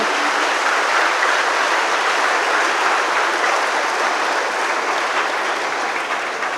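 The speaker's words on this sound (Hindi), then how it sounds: "Shall we give a big applause to the Lord?" Steady, dense applause from a large crowd at a church worship service, loud and continuous throughout with no pauses.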